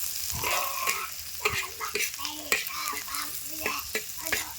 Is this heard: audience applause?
no